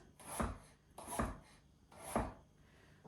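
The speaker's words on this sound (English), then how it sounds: "So I'm going to cut this on a steep diagonal." A knife slicing a vegetable on a steep diagonal into long shards on a cutting board, three distinct chops about a second apart, each a crisp thud with a brief scrape, fairly close with no talk.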